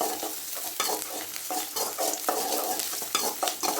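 Onions fried and stirred in a pan until light brown, for a vegetable biryani: a steady close sizzle with repeated scraping stir strokes throughout, alone with no talk.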